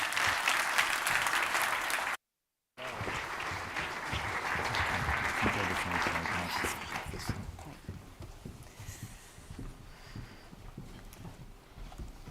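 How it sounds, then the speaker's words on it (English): A conference audience claps for a panel at a creative cities event, a dense round of applause that holds strong for several seconds, breaks off briefly, then gradually thins out into scattered, fading claps. "But clap your hands really hard for this panel."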